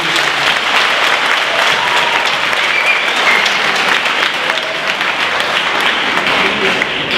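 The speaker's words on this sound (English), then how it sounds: "Can we give her a round of applause for being the one?" An audience at a Freedom Day debate question-and-answer session breaks into a steady, dense round of applause, loud and close, with many hands clapping continuously for the whole stretch and no break.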